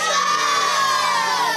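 A class of children shouts together in a loud, excited burst of overlapping high voices, brief and sustained.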